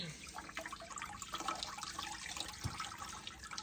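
A soaked deer hide being brain-tanned comes up out of clean wash water, giving faint, close drips and trickles with a small splash near the end.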